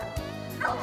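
Newfoundland dog barking in short yips and bow-wows during outdoor water work in Brielle, close and fairly loud over a steady background hum.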